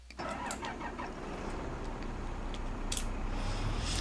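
A tractor engine in Farming Simulator 25 cranks and catches, settling into a steady mid-pitched running drone that grows slightly louder toward the end, close and continuous with no talk over it.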